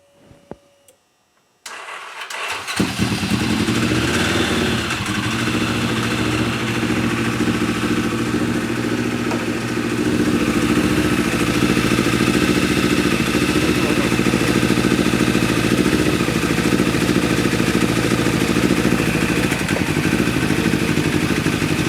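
A Polaris RZR engine, newly installed, cranks briefly after a few clicks, then fires and settles into a loud, steady idle that runs on unbroken close to the microphone.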